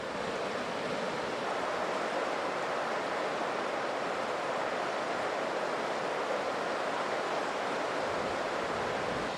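Whitewater rapids and cascading waterfalls on the River Orchy in a Scottish glen in February produce a loud, steady roar of rushing water that holds unbroken throughout.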